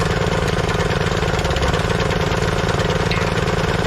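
An engine runs at a steady, loud idle from start to end, with a close, rapid knocking beat and no talk.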